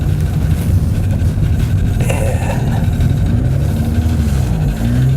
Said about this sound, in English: So it's a little bit loud. I think they might have a hole in the exhaust